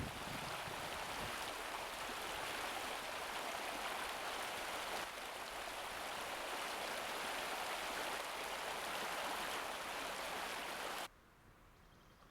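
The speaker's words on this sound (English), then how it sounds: "Along the trail I'm reaching the Lago d'Orfu, a small stream with turquoise water" A small turquoise mountain stream in the Alps runs steadily along a trail, a dense continuous rush of water heard close up with no voices, cutting off abruptly near the end.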